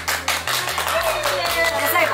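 Quick clapping by a few people, light and close, with sharp bursts over a steady musical background.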